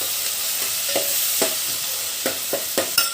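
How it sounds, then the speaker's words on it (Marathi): Turmeric, salt and spices for Maharashtrian masala rice sizzle steadily in a hot pan, with a spoon scraping and stirring in irregular strokes over the continuous frying hiss, close up and with no talking. "हे मसाले सगळे आपल्याला भाजून घ्यायचे"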